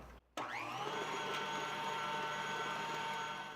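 Electric hand mixer whirring steadily as it beats cookie dough with a pinch of salt and a teaspoon of vanilla extract, starting after a brief pause and running loud and continuous to the end.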